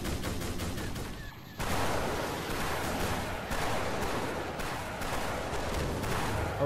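A helicopter firing rockets in Garry's Mod: a loud, dense rush of explosive blasts and rumbling booms that surges after a brief lull, continuous and broad, with repeated impacts.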